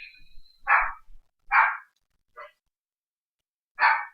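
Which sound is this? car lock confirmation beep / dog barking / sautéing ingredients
dog barking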